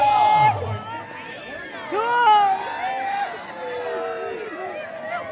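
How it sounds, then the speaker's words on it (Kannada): At an outdoor kabaddi final, a spectator crowd shouts and chants a devotional name chant loudly, with overlapping voices, whoops and lively babble rising and falling. "ಗಣೇಶ ಗಣೇಶ ಮೋರೆಯ ಎಂಬ ಪ್ರೇಕ್ಷಕರ ನಾಮಜಪ."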